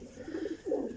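Two distinct low cooing phrases from pigeons, the second louder and fuller, close and clear with a short lull between them.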